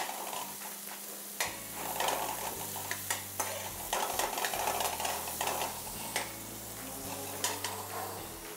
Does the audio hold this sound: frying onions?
yes